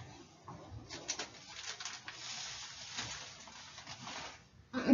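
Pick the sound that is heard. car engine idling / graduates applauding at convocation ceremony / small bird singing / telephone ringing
small bird singing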